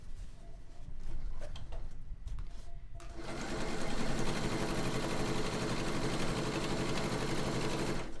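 A sewing machine stitches quilt pieces in steady continuous running after a quieter start with faint background sounds, loud and close, running alone for several seconds.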